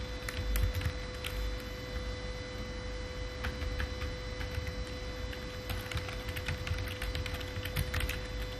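Steady, rapid key clicks from a computer keyboard as HTML code is typed, close and continuous over a constant electrical hum, with no talk.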